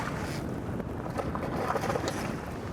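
Strong wind buffets a fishing boat out on the water during bonefish fly fishing in Cuba, a loud, gusty rush of broadband noise with low rumbling buffets on the microphone.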